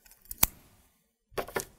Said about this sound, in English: Let's get cutting that with a pair of scissors.